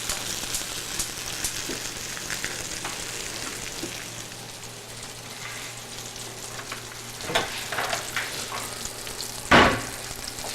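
Onions caramelizing in a frying pan give a steady, moderately loud sizzle with a few crackles, and a sharp clatter or stir rises near the end.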